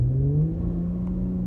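A car fitted with a Pedal Commander throttle controller accelerates, its engine tone rising briefly then holding a steady moderate drone, heard from inside the car with no talking.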